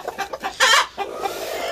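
Broody hens sitting on eggs that are close to hatching cluck in a short run of soft, close calls, with one louder, drawn-out cluck in the middle, then a steady low murmur.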